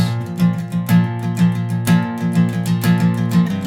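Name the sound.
acoustic guitar power chord strummed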